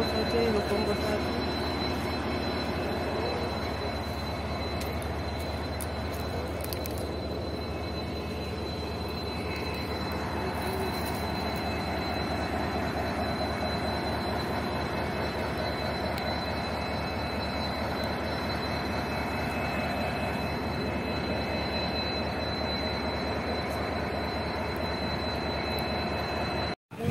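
A long-distance passenger train from Kolkata to Bangalore rumbles steadily, wheels and carriages producing a loud continuous roar with rhythmic clatter and a high squeal, and voices faintly under the noise.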